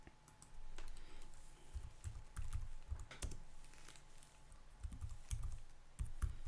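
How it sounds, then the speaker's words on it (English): Fingers tap on a computer keyboard in quick, uneven bursts of sharp clicks and clacks, close and fairly quiet, with short pauses between runs and no one speaking. "Let me type it in here."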